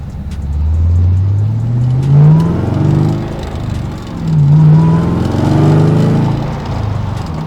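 A supercharged C2 Corvette Split Window with a six-speed manual accelerates hard on a street, its loud engine note rising through the gears in two climbing pulls with a brief dip at a shift, close and steady with no talking.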